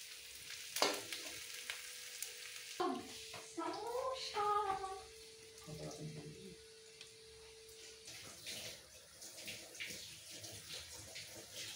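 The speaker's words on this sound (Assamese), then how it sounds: "পিঁয়াজটো ফ্ৰাই হৈ আছে।" Onions fry in a pan, a soft sizzling crackle under intermittent kitchen clatter and a brief whistle-like tone, with scattered clinks of utensils nearby.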